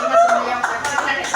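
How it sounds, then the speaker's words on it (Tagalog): A few people clap their hands together in quick, uneven bursts at a gathering at a grill restaurant, close and fairly loud, with lively talking and voices over the claps. "Palakpak muna kami, palakpak!"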